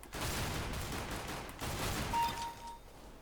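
Gunfire from Counter-Strike: Global Offensive, a dense fusillade of rapid shots across the whole clip in a steady barrage, with a brief lull before it resumes.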